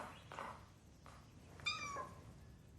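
A cat meows indoors in a Malayalam film scene: a couple of soft, faint calls followed by one clearer, drawn-out meow near the end, with quiet room tone between.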